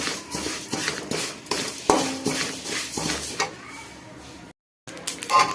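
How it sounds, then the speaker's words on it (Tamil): Rasam powder ingredients dry-roast in a pan over a high flame, stirred steadily with repeated scraping, clinking and rustling close by, broken by a short silence near the end. "ஸோ நான் இப்போ வந்து இது வறுக்க ஸ்டார்ட் பண்ணிடுறேன்."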